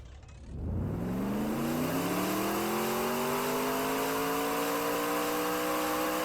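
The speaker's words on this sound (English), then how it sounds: "this car does have a custom engine sound." Custom engine of the Manta car in the video game Jailbreak, revving up from a low start into a steady, loud, climbing whine with layered harmonics and a constant hissing edge, with no talking.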